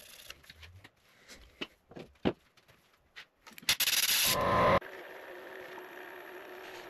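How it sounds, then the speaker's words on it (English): Sanding a Bolly Gum fountain pen blank through progressively finer grits, heard as close, uneven rubbing and scraping strokes that build into a loud sustained rasp before settling into a steady softer hiss. "the more you get through the grits, the less sanding it actually does"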